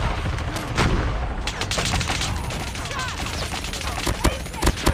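A RUS-79U fires rapid automatic bursts in Call of Duty, loud crackling shots packed closely over several seconds amid battlefield noise.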